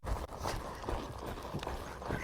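A young horse trots outdoors, its hoofbeats a steady clip-clop rhythm that sounds close and fairly loud over outdoor background noise.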